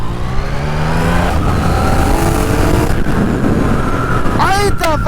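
Yamaha XSR900/MT-09 motorcycle fitted with a MIVV exhaust, revving and pulling away outdoors at sunset, loud engine drone with rising and falling revs and a sharp surge near the end, a voice talking over it.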